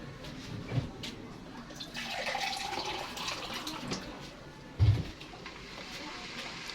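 Water poured into a pot of jackfruit cooked in coconut milk curry, a soft steady splashing with a couple of louder thumps, close by.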